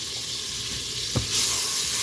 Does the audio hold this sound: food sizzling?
yes